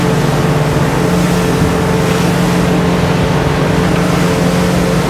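A Jeanneau 10.5 CC motorboat engine drones loudly and steadily, rising slightly as it picks up speed, with water rushing and slapping against the hull throughout.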